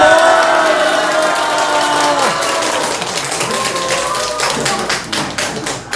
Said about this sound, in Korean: 자, 할렐루야 하거든 다 같이 박수를 치든 소리를 지르든 우리 한번 해봅시다.